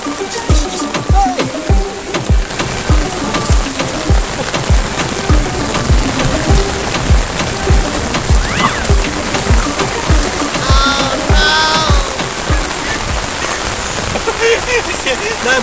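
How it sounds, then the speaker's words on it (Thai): Heavy rain pours onto a fishing pond, a dense continuous patter with close drips and splashes, while people talk now and then over it. "ไม่น่าเลยฝนกำลังฮอตเลยอ่ะ"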